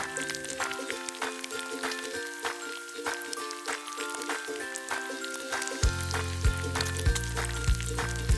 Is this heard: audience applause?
no